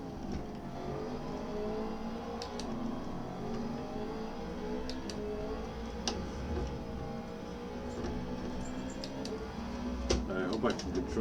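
Car engine revving in Gran Turismo 7 on the Daytona Road Course during the American Clubman Cup 700 race, a steady droning engine note with ticking clicks and a louder surge near the end.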